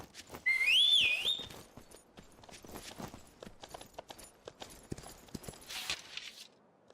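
Horse hooves clip-clop in the Myth of Empires video game, a steady run of light, fairly close footfalls, joined near the start by a brief rising whistle, with no talking.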